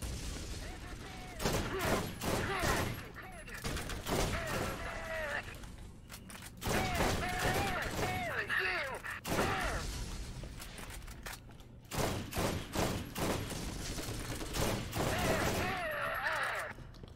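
Weapon fire in the video game Borderlands, repeated bursts of rapid shots separated by short pauses, loud and close, with game mechanism sounds between bursts.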